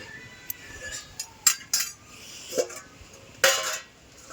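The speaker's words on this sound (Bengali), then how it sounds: "কড়াই উনুনে বসালাম" An iron kadai set onto a clay village stove before cooking a small bata fish curry gives off a few sharp metallic clinks and knocks, spaced out, fairly close and clear, with no talking.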